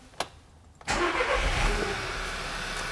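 A short click, then a car engine cranks and catches at just under a second, settling into a steady running rumble.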